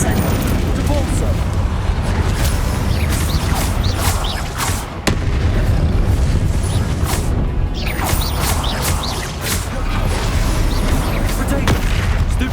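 Spell blasts in the video game Hogwarts Legacy: a dense, continuous barrage of loud booming impacts and crackling bursts, with shouted spell incantations mixed in throughout.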